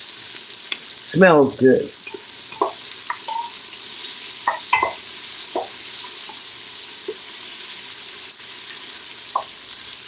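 Vegetables sizzle in browning butter as a soft, steady crackle, while a voice speaks briefly and a few utensil knocks and clicks sound near the pan.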